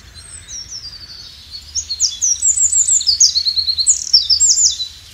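Bright, varied European robin song in a garden, quick high warbling phrases starting faintly and growing fuller and louder, over a low steady background hum.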